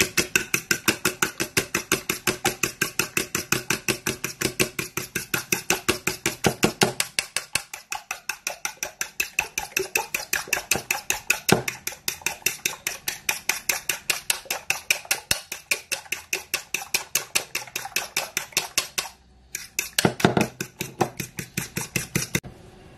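Eggs whisked in a bowl for a capirotada, a fast steady rhythm of metallic clicks against the dish that runs on without pause, briefly breaking near the end before resuming.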